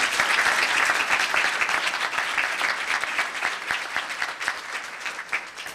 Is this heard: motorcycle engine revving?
no